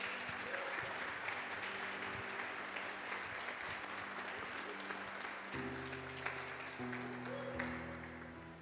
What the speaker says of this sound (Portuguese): Se eu fosse você, aplaudir Jesus, irmão.